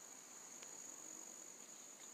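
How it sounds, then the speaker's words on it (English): Cicadas buzz as a steady, faint high-pitched drone in a quiet outdoor setting, continuous and unbroken, with no talk. "That's the cicadas making that noise."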